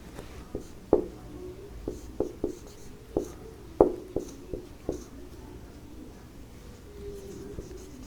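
A black pen scratches and taps across paper during a classroom math lesson, with a series of quiet, sharp strokes and light ticks spread unevenly over several seconds.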